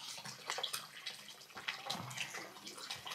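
Water rushing and splashing at Tak-tak Falls in Siargao, a steady, dense wash of sound close by that holds level throughout, with no voices.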